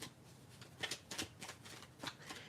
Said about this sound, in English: Let me just shuffle this card.